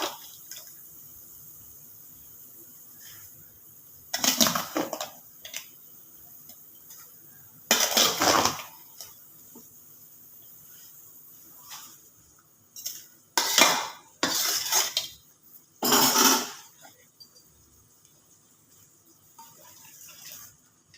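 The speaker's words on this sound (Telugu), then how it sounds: "ఇప్పుడు దీన్ని బాగా మిక్స్ చేసుకోవాలి." Fried bread pieces being mixed into sugar syrup in a pan for bread halwa: quiet stretches broken by several loud bursts of spoon scraping and wet stirring against the metal.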